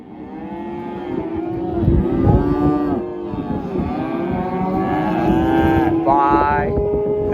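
Calves bawl and moo loudly during weaning on a cattle farm, several overlapping drawn-out calls from close by, continuing nearly without pause throughout.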